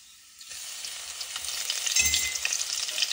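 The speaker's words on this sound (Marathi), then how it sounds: "तेल तापलंय, आता आपण त्यात थोडेसे जिरे टाकूयात। त्यानंतर बारीक केलेलं लसूण टाकूयात।" Cumin seeds and minced garlic hit hot oil for sambar rice, bursting into a loud, crackling sizzle after a quiet half-second and swelling steadily, with a brief louder spatter midway.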